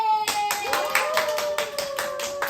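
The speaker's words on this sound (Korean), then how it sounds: "나머지 박수해 줍니다." Children at a church kids' club clap their hands in a burst of quick, uneven applause with some voices mixed in, fairly close and lively.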